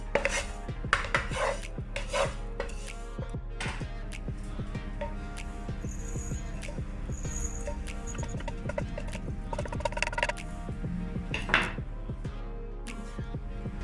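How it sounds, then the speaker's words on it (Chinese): Sesame seeds stir-fried in a pan until golden, prepared for a homemade Lou Sang (Yee Sang) salad, give a steady scratchy rattle with dense clicking and scraping of the seeds and utensil against the pan, close and continuous, with no talking. "我们可以拿一些芝麻，把芝麻炒一炒。 把芝麻炒到金黄色就好了。"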